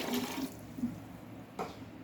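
Water is poured from a glass into a bowl of chickpeas with an onion in a home kitchen, a soft, fairly quiet splashing and trickling that runs throughout, with one brief brighter splash near the end.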